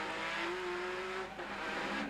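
A Nissan GTR race car at Lakeside in 1991 Australian touring car racing, its engine heard onboard from the cockpit, a steady loud drone holding one pitch with a brief dip near the end.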